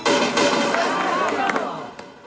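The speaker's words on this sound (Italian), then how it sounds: "un applauso a lei che l'ha riconosciuta" Dense audience applause rises at a live rap show, loud and sustained at first and then gradually thinning and fading, with a few scattered claps toward the end.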